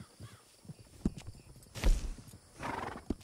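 A horse in the video game Red Dead Redemption 2 at a stable, with a few hoof clops on the ground, a snorting whinny and a breathy neigh, close and fairly quiet, spread irregularly over a few seconds.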